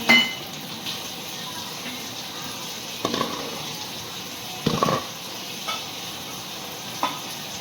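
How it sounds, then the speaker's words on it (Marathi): Water bottles are washed and filled from an Aquaguard water purifier, with running water, splashes and several clunks of plastic bottles handled at a kitchen sink. "तर आता मी त्या पटकन धुवून घेते स्वच्छ आणि ॲक्वागार्डमधून भरून घेते"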